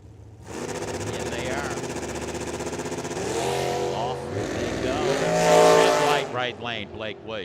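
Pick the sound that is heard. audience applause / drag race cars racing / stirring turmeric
drag race cars racing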